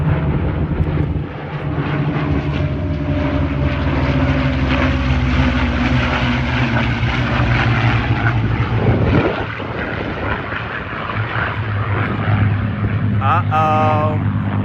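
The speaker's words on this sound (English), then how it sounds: "And a P-51 Mustang" A P-51 Mustang propeller fighter flies at an airshow, its engine droning steadily and loudly throughout with a slight dip and swell, while people talk nearby over the crowd noise.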